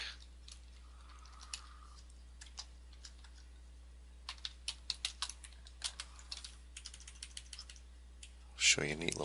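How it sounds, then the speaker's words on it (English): Quiet, sparse keystrokes on a computer keyboard, tapping in short irregular bursts close by over a low hum, ending in a louder clatter. "And then you would type some stuff."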